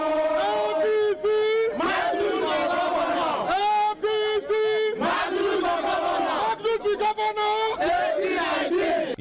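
An angry crowd shouts and chants loudly at the APC party secretariat, many voices bellowing in waves with brief pauses between surges.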